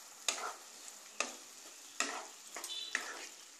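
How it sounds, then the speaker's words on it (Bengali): Pointed gourd is stirred with watered-down poppy seed paste in a pan, a spoon scraping in about five sharp strokes over a faint sizzle. "এবার ভালো করে নাড়াচাড়া করে দিতে হবে"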